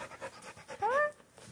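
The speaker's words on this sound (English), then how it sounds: "You're one tired pup from playing outside?" A tired Norwegian elkhound pants after playing outside, quick rhythmic breaths close by, with a brief high whine rising partway through.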